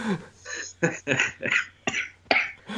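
A series of harsh, close coughs comes in bursts, about six in quick succession with short pauses between them.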